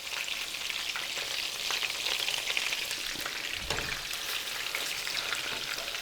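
Browned meatballs go into a simmering sauce, where a steady, dense sizzle and bubbling hiss runs throughout, with a soft thud partway through.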